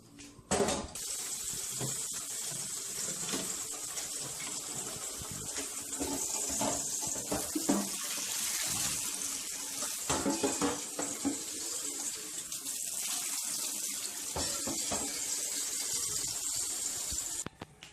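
Water pours steadily from a tap into a sink, a continuous close-up rush lasting throughout with occasional splashy fluctuations.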